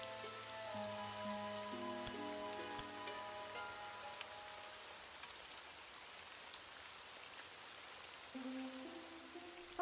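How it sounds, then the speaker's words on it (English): Steady patter of rain falling on a surface in a cartoon, soft and continuous, with faint tonal music underneath and no talking. "Got wet in the rain."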